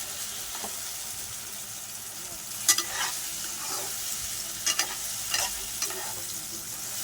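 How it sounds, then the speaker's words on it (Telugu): A raw mango chutney mixture fries steadily in a pan, a continuous sizzle broken by a few sharp scraping stirs near the midpoint and later on, close and moderately loud with no talking. "మామిడికాయ తుడుము చేసుకొని సింపుల్గా ఇలా కొద్దిసేపు వేడితే అయిపోతుందండి."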